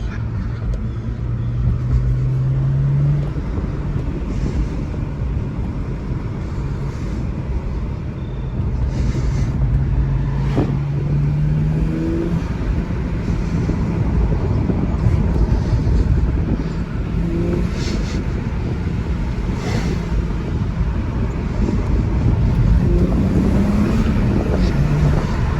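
A 2007 BMW 335xi twin-turbo E90 sedan with a cold air intake drones steadily while driving, its pitch rising and falling in sweeps as it accelerates and shifts, with constant wind rush and no talking.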